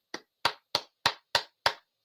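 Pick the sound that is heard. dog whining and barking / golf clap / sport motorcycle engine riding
golf clap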